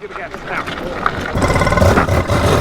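A powerful mini Porsche GT3RS go-kart pulls away in first gear, its engine rising to a loud, rough revving roar close by, with people talking over it.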